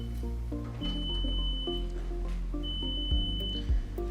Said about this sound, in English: So now we're just going to fill with the Hotline fluid warming set, and it'll alarm until you put a giving set in.